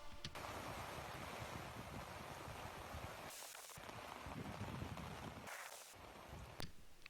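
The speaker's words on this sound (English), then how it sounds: "the rain sounds awesome" Steady rain pours outdoors as a constant, dense hiss, with two brief cuts where the sound drops out before resuming.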